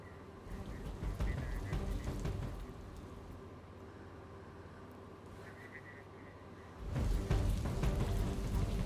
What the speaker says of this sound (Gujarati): થોડાક જ કલાકોની અંદર ધોધમાર વરસાદ વરસવાનું શરૂ થઈ ગયું હતું